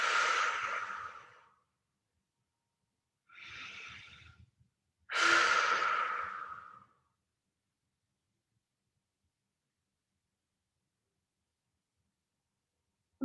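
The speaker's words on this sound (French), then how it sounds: "Grande inspire par le nez. Et grande expire, on relâche." During a yoga practice, a person takes slow, deep breaths in through the nose and out, three long airy breaths separated by silent pauses, close and clear.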